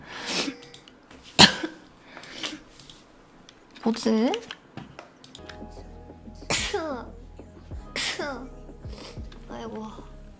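Repeated sneezes from a streamer, several sharp bursts spread across the clip, loud and close, with talk and background game sounds between them.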